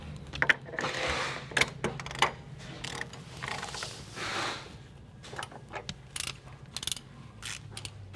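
A ratchet clicks in quick bursts as bolts on an Akebono caliper bracket of a Nissan S13 240SX are tightened, the sharp pawl ticks coming in short, irregular runs close by, with no talk.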